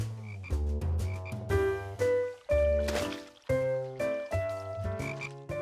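Frogs croak in a cartoon pond, loud, close, repeated ribbits over low tonal music, with no voices.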